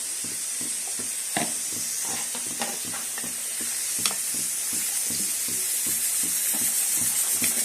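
Chopped tomato frying in a pan with water just added, a loud continuous steamy sizzle and hiss with scattered stirring clinks, no voices.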